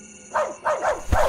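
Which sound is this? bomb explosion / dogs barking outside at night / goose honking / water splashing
dogs barking outside at night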